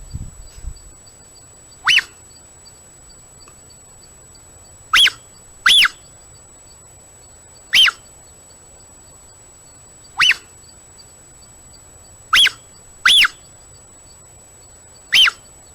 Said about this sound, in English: one distinct call in their range that pumas have is this chirping. It's slightly avian-like, slightly bird-like